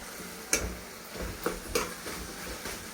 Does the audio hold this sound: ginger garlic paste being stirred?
yes